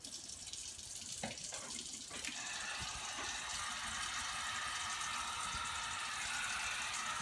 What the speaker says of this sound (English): So I'm going to go ahead and turn my cold water on here